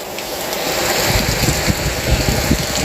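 Heavy rain pouring in a durian forest during strong wind, a loud continuous hiss with dense patters and low thumping gusts, steady from start to end.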